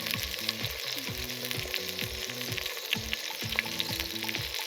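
Ground red chili and spices hiss and crackle in hot oil for a dal tadka, a steady close sizzle with repeated scraping stir strokes and faint background tones, no voices.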